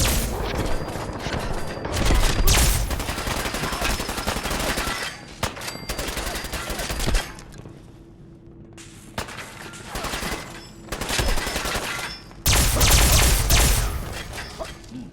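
Loud bursts of machine gun fire from a gangster movie scene, rapid volleys repeating through the clip with brief lulls in between and a few heavy thuds.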